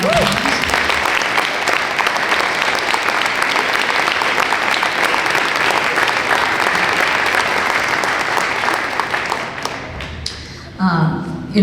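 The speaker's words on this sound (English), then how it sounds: "Maybe round of applause" A school jazz band audience at a concert breaks into loud, sustained applause, dense clapping from a full room that carries on for about ten seconds before tapering off, with a few voices at the end.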